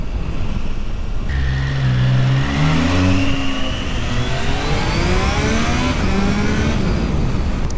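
A 2025 Triumph Tiger Sport 660 motorcycle engine revs and accelerates through the gears, loud and close, its pitch climbing repeatedly with shift dips in between.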